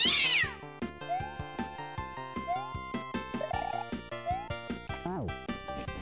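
Repeated cat meows ring out alongside Super Mario World game music, with sharp chirpy effects and steady rhythmic backing; an opening squeal gives way to several short meowing calls scattered through the loop.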